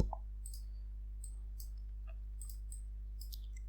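Computer mouse clicks during work in Salome-Meca software, several small, crisp clicks scattered irregularly over a steady low electrical hum, close and faint, with no speech.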